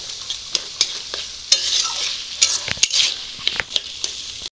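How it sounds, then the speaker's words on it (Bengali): Turmeric, chilli powder and other spices frying in oil for a cabbage curry, a soft sizzle broken by sharp, irregular scrapes and clinks of a spoon against the pan. "সব কিছু মশলা ভালো করে কষিয়ে নেব, তারপরেই বাঁধাকপিটা তুলে দেব।"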